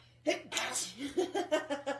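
One sharp sneeze close by, followed by a brief vocal reaction.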